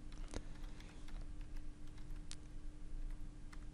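Computer keyboard typing code during an STM32L4 microcontroller programming session, a quick irregular patter of soft key clicks close by and quiet over faint hum, with no voice.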